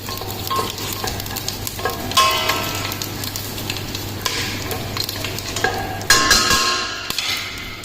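Whole spices sizzle in hot oil while being stirred for a restaurant-style Indian ginger chicken, a close, continuous frying hiss broken by scraping stirs and a few sharper clatters of the utensil against the pan.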